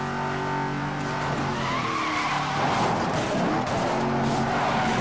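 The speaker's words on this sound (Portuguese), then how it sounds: "Ele parece ser bom para drift. Ele derrapa muito bem." Car drifting in Need for Speed: Most Wanted, with sustained tire squeal and skidding over a revving engine, loud and continuous through the clip, the squeal shifting pitch as the slide changes.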